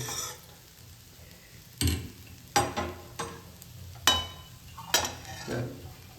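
Rice and vegetables for pulao are stirred in a pan with a spoon, making five or six distinct scraping strokes spaced a second or so apart over a low background sizzle.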